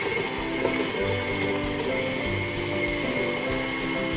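Electric mixer creaming half a cup of butter in a bowl, a steady motor whir with rhythmic pulsing as the beaters work the fat, close and unbroken for a few seconds.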